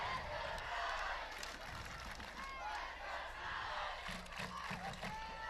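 A crowd at a night high school football game between Summit and Nolensville cheers and shouts across the stands, a continuous distant roar of voices with whoops rising and falling.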